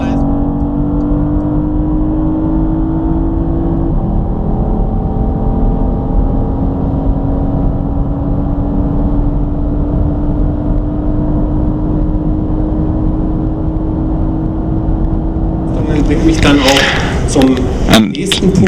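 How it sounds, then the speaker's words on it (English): A 2017 Porsche Panamera pulling away under launch control, its engine a steady rising drone that swells into a louder, rougher burst of revs near the end. "launch the car with the help of launch control."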